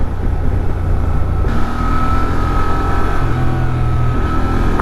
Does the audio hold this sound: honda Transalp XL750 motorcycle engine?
yes